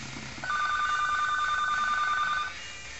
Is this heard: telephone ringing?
yes